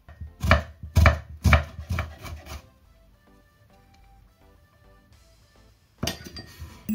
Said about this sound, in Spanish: Voy a picar la cebolla muy finita